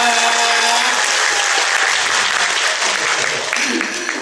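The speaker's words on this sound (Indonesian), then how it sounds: "boleh berikan tepuk tangan yang luar biasa" An audience at a corporate fitness event bursts into dense, sustained applause, loud and full throughout, with faint voices mixed in and the clapping thinning slightly toward the end.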